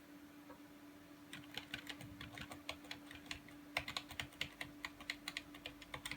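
Typing on a computer keyboard at an old Windows computer being restored, heard as a quiet, irregular run of close key taps that picks up pace partway through, with no talking.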